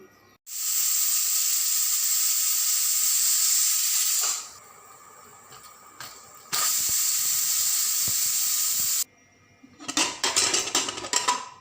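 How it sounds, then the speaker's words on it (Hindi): Pressure cooker, cooking taro root, releasing steam: a loud continuous hiss that stops, resumes after a pause, then ends, followed by rattling sputters. "मैंने इसका प्रेशर निकाल दिया है"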